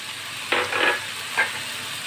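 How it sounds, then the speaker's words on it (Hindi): Vegetable pasta is stirred and sautéed with soy sauce in a hot pan, giving a soft continuous sizzle with a few louder scraping stir strokes rising briefly above it. "अब इसको थोड़ा सा हम सौते करेंगे"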